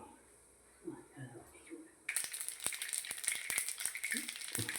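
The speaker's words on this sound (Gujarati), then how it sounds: "જો આ રઈ ફૂટી ગઈ આપણી" Mustard seeds crackling and popping in hot oil for a dhokla tempering, a sudden loud sizzle with sharp scattered pops after a quieter stretch where people talk.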